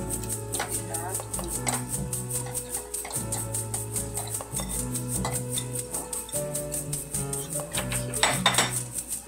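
A utensil stirs cauliflower in cream in a pan, with steady metallic clinks and scrapes repeating over background music and brief talk.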